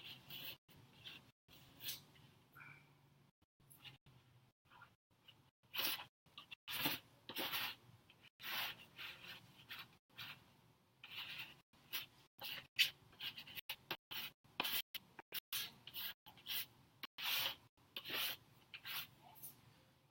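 Old wax being scraped off a surfboard, a rapid series of rough rasping strokes at close range, fast and uneven in rhythm, continuing steadily with no talking.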